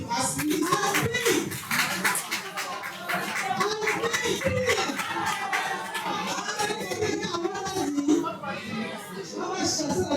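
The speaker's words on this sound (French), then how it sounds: "Est-ce qu'on peut applaudir pour ASPI?" Audience applause at an ASBBIC conference held with Advans Cameroun, dense clapping carrying on steadily for about ten seconds, mixed with shouts and voices from the crowd.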